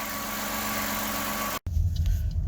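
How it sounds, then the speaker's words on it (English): A Toyota Camry engine idles slightly high, a steady close hum broken by a brief dropout, then a deeper, rougher rumble. "The engine is still revving a little higher than usual"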